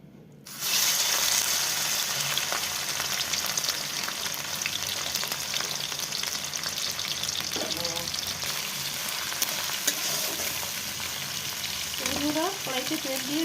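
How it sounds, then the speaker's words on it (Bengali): Oil heats in a wok at home with a steady broadband sizzle that starts abruptly and holds throughout, with a few short voiced sounds nearby near the end. "তো বন্ধুরা আমি কড়াইতে তেল দিয়ে দিচ্ছি।"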